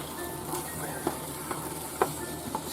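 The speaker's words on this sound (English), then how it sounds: "So give this a good mix as the ground turkey starts to cook in there" Ground turkey for Southern goulash cooking in a pot, a soft continuous sizzle broken by several distinct knocks and scrapes of a spoon as it is stirred.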